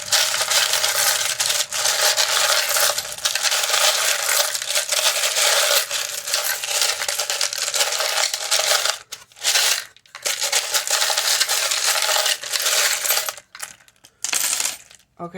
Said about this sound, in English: Okay, I'm going to shuffle these now. It's going to be a little loud.